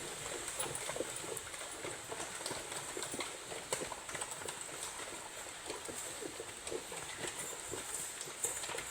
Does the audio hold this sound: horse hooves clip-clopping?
yes